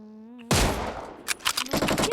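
Gunfire in an online shooter game bursts out suddenly as a loud, dense volley, followed by several rapid sharp shots over a few seconds, with no talking.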